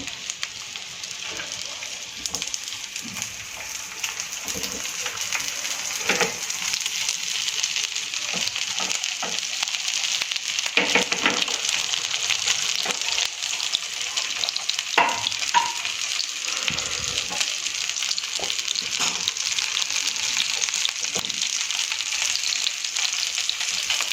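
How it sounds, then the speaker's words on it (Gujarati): Cut tomatoes frying in hot oil in a pan, a steady close sizzle and crackle with occasional stirring clicks and scrapes, continuous and alone. "ત્યારબાદ ટામેટાને પણ આપણે આ રીતે કટિંગ કરી અને ફ્રાય કરવાના છે"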